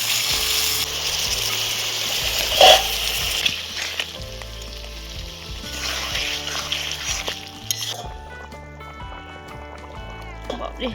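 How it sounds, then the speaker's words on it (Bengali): Water splashes into a pan of nearly browned meat frying in oil, setting off loud, steady sizzling with stirring, and a voice talks briefly. "এবার একটু সামান্য সামান্য করে জল দেবো"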